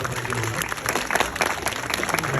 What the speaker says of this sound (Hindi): कृपया सबै भक्तजनहरू मिलेर प्रेम भाव का साथ जोरदार ताली बजाउँदै यस शिव ताण्डव नृत्यको सफल गरिदिनुहोला